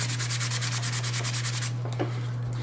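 Rhythmic sanding strokes rub across a rough surface to smooth it, a quick regular scratching that repeats closely for a couple of seconds, then eases off, with no voices.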